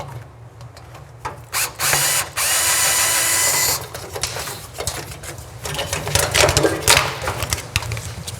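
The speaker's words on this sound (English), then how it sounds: "So we'll need to lower it down and get those lower bolts out." Ratchet removing bolts from the valance of an abandoned car, with rapid clicking bursts and a sustained loud mechanical whir, close by amid clattering workshop noise.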